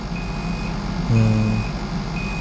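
A Sharp ES-M7000P-GG washing machine sounds a high electronic end-of-cycle beep three times at a steady pace over a constant low machine hum, with a brief louder low tone midway.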